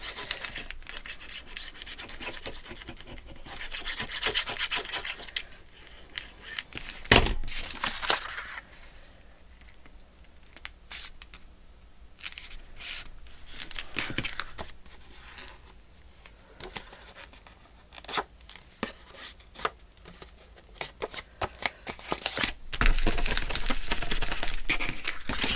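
Paper packaging being trimmed with a scraping, crinkling cut across the top and down the sides, intermittent rustles and short sharp strokes at close range, with no talk.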